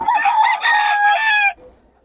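A rooster crows loudly and close at a chicken seller's stall in Bocaue, one long sustained call lasting about a second and a half before cutting off to quiet background.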